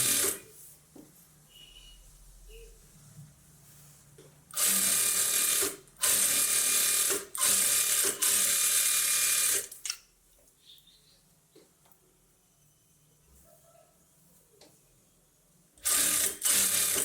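A sewing machine stitches the lining of a blouse in loud, steady bursts of a few seconds each, with quiet gaps between runs.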